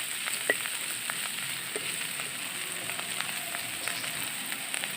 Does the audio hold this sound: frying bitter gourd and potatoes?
yes